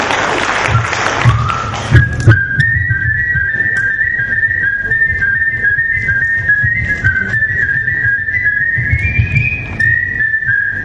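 A guest on a stage show whistles a song, one clear, sustained melodic line held up close, following a brief burst of applause and thumps at the start.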